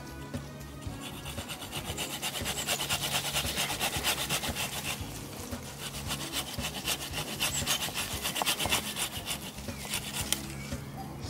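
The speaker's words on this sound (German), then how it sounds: "jetzt in einem zweiten Schritt gehe ich dann her und säge hier richtig" A hand saw cuts through a plum tree branch during summer pruning, its rasping strokes repeating in a steady back-and-forth rhythm, close and continuous for the whole stretch.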